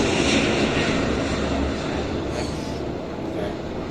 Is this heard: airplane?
yes